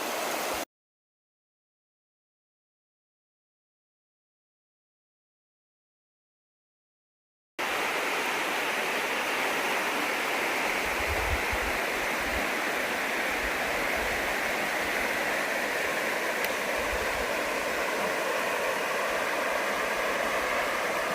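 Steady broadband rush of a flowing river near Burrells Ford Campground on the Foothills Trail, constant and close, after a brief start and a long stretch of silence.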